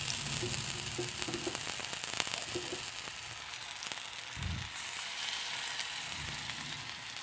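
Bok flower fritters frying in a little oil in a pan, a steady close sizzle and crackle running throughout with occasional soft bumps as pieces are added, no voices.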